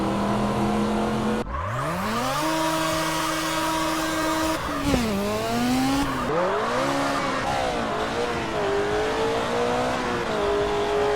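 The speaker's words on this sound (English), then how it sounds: "we have a vehicle sound overhaul that dramatically improves how cars sound on the road." Modded car engines and squealing tires in the video game GTA San Andreas, with loud revving that rises and falls in pitch and skidding tires throughout, heard alone with no talking.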